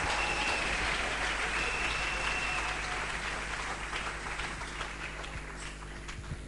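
A church congregation applauds loudly and continuously, a dense wash of clapping that slowly fades toward the end, with no talk over it.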